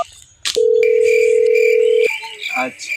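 A telephone dial tone rings out as a call is placed, one steady, loud, unbroken tone for about one and a half seconds, with brief clicks and faint background voices around it.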